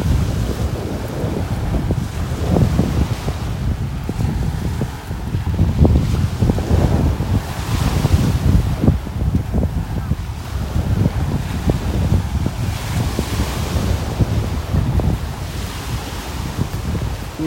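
Strong wind and ocean surf on a beach at Delnor-Wiggins in North Naples, Florida: a loud, steady roar of gusts buffeting the microphone over continuous crashing waves, with no break for the whole stretch.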